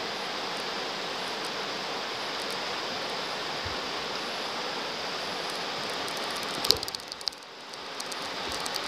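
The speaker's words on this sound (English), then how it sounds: "Listen to that river flow." Steady broadband rushing of a flowing river, continuous and close, heard from a riverside walk, with a brief clatter near the end before the water noise resumes.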